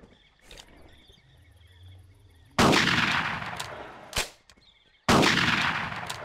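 Weapon fire in the hunting game Carnivores Genesis: two loud separate gunshots with long decaying tails, a smaller crack between them, over a quiet outdoor ambience of insects and faint wildlife.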